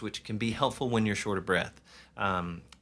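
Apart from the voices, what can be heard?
No distinct noise like a dog, phone or traffic.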